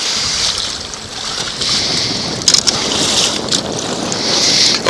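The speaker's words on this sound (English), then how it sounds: "We got to go it into the wind because the wind's blowing us the wrong direction here." Steady wind gusts over open water aboard a fishing boat on Table Rock Lake, loud and constant with microphone buffeting and a few sharper bursts, no talking.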